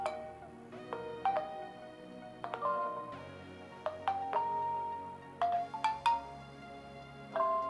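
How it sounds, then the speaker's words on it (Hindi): A string of short phone notification tones plays one after another, bright chimes and plinks with brief pauses between, clear and alone with no talking, as WhatsApp alert sounds are previewed on a smartphone. "आपको बहुत सारे टोन मिल जाएंगे।"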